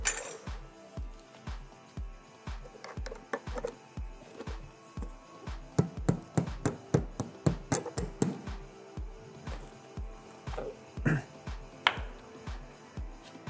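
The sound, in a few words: fixing a firestop cavity barrier to a masonry wall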